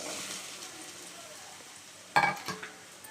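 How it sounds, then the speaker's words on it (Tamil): Onions going into lightly heated oil for chicken gravy: a soft, even frying hiss, then a sudden loud burst of sizzling as they hit the pan and a second splutter just after. "இப்போ லைட்டாக ஹீட் ஆனதும் நம்ம வந்து வெங்காயத்தை ஆட் பண்ணுறோம்."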